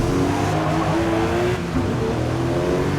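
A Porsche with a boxer engine racing in Forza Motorsport: a loud, continuous engine drone with shifting harmonic pitch as it accelerates, a brief dip midway, tire noise underneath, no voices.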